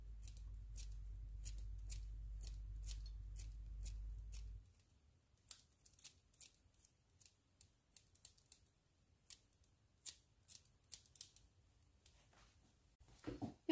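Fresh parsley is finely chopped, making a rapid run of sharp, quiet clicking cuts that come in irregular bursts after a low steady hum fades out.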